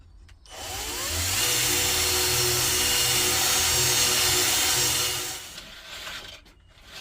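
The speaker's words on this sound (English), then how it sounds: "Just cleaning the end out with a reamer to get some bare metal, get rid of any rust." A reamer grinds rust from the end of a Fiat 500 part down to bare metal, a steady loud whirring drone that runs for about five seconds before spinning down and stopping.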